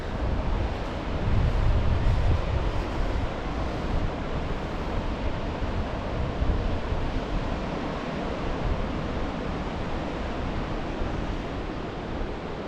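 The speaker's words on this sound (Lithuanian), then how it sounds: "Žodžiu, puč vėjas." Wind blows steadily on the Baltic seashore near Palanga, a broad, loud roar of gusts and breaking surf with wind buffeting the microphone, continuous throughout with no voices.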